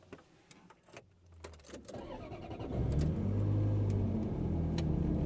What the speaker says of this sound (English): Not just the V8 coming on, but the action of ignition.